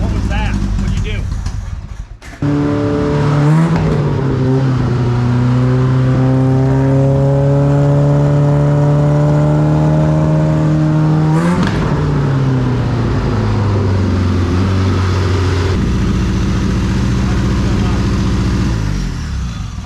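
A cheap Italian Fiat sports car engine runs close by, holding a steady droning idle, rising in pitch and falling back as it revs, with brief loud bursts near the start and end. Faint talk may sit under the engine.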